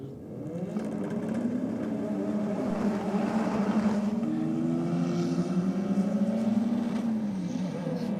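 A Team Karam Mitsubishi Evo making a drag racing pass, a loud, sustained engine roar that rises and shifts in pitch as it accelerates, heard steadily for several seconds with no talk.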